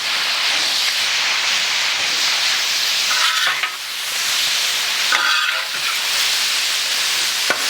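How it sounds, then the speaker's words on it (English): Meat patties frying on a BlackStone griddle, a loud continuous sizzle and hiss close up, with brief scraping and spatula clatter in two spots. "You're watching this meat cook in actual time from me firing the grill up"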